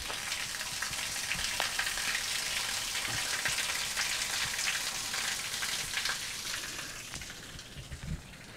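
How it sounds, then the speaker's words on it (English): Snowmelt water pours steadily off a roof gutter in a city, a dense hissing splash with scattered drip ticks, close and continuous throughout. "So it's just pouring off there."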